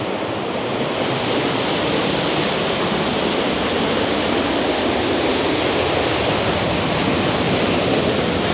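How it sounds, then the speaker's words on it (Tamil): Water gushing out of an opened village pond at Muthaiyankattu tank, a continuous loud broadband roar of rushing flow, steady and unbroken throughout with no voices. "எப்படி தண்ணி பாயுதுன்னு பாருங்க"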